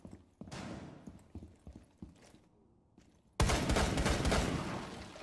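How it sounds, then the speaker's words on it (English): Rainbow Six video game gunfire, scattered clicks and mechanical shots at first, then a sudden loud sustained burst of firing in the last two seconds, with no talking. "Someone else is shooting at me."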